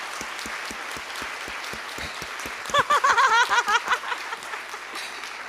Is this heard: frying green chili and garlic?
no